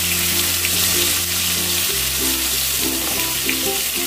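Pointed gourd pieces frying with turmeric and salt in prawn oil, a loud, dense, continuous sizzle up close with a faint steady hum beneath, no talking.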